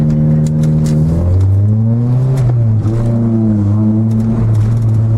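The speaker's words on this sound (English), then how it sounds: "you have neutral rev limiter all the time and no VTEC" A Honda Prelude engine with no VTEC revs in neutral against its rev limiter. It is loud and close, with the pitch climbing and holding, then bouncing and wavering at the limiter, and no talk over it.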